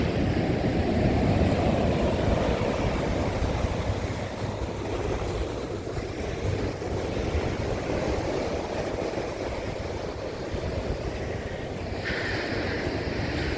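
Ocean waves rolling in near a jetty on the California coast, a loud, constant roar of surf and wash with gusts of wind buffeting the microphone throughout, no voices.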